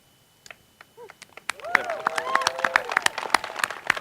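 Medical school graduation hooding ceremony audience breaks into applause, starting with a few scattered claps and quickly swelling into steady crowd clapping, with some voices audible early on.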